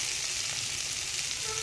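Cucumber pieces fry in oil in a pan for a Bengali vegetarian curry, giving a continuous, close, bright sizzle with no talking.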